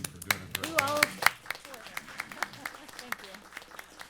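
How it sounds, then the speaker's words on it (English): Scattered clapping from a board meeting audience applauding the team, a few sharp claps over a room murmur with a brief voice near the start, thinning into light irregular taps. "I think we just need to applaud the entire team"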